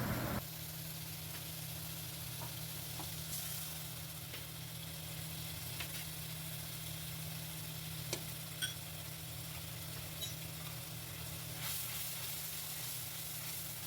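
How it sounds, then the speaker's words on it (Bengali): A tomato paste base with cumin, chole masala, turmeric and a splash of water fries in a pan, a faint steady sizzle under a low constant hum, with a few soft scrapes. "ভালোভাবে মশলাটাকে আমরা আগে কষে নেব"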